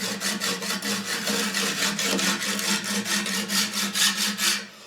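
Katana blade being sharpened on a 240 grit sharpening system, fast even rasping strokes repeating roughly four per second, close and steady throughout, no speech.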